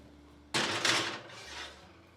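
A baking pan of cornbread and sausage stuffing goes into the oven with one sharp metallic clunk and scrape near the mic, followed by a softer thud as the oven door shuts.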